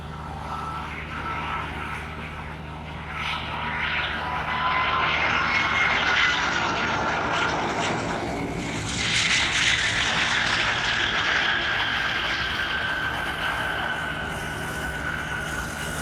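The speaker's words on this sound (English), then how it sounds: "This is a brand new Airbus A330 that's wearing the raccoon mask." Brand new Airbus A330 cargo airliner taxiing at Chicago O'Hare, a loud, steady jet engine roar with a whining tone that swells and shifts as the plane moves past.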